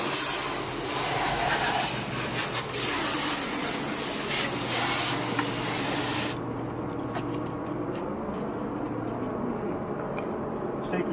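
Water spray rinses swimming pool equipment after its bands are lifted off, a broadband hiss running steadily and fairly close for about six seconds, then continuing as a softer, duller rush while a voice talks over it.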